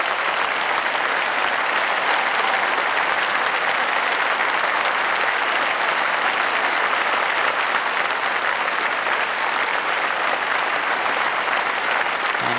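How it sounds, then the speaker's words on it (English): Crowd applause drifts over from a fours bronze medal playoff on a neighbouring green at the 1984 World Lawn Bowls Championship, a steady sustained clapping heard at a distance with no speech. "The loud applause is for the fours bronze medal playoff over on another green"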